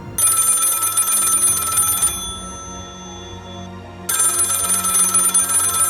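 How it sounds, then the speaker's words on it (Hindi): An old telephone bell rings loudly in two long bursts with a two-second quiet gap between them, and no one speaks. "तो टेलीफोन की घंटी बजी।"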